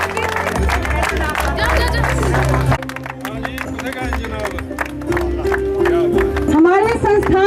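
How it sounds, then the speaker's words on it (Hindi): Crowd at the opening of a men's district-level sports meet at Government ITI Chamba: loud, dense applause and clapping with cheering and voices mixed in throughout. "तालियां बजती रहे, चेहरे पे दिखती है।"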